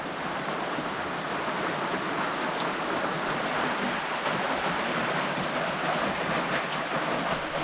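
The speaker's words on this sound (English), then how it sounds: "this is proper rain, this is the real thing" Heavy rain falling outdoors on a homestead, a dense, even hiss of downpour with occasional sharper drips standing out, steady and unbroken with no voices.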